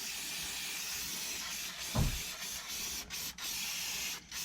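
Brake cleaner sprayed onto the brakes of a 2012 Seat Ibiza, a faint steady aerosol hiss with a brief louder thump partway through and short breaks between bursts.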